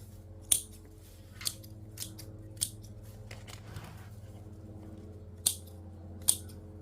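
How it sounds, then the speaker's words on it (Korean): Scissors pruning the leaves of a chrysanthemum bonsai, giving several sharp, quiet snips spaced irregularly over a low steady background hum, close by with no talking. "잎을 좀 남기고 이렇게 잘라주면 돼요"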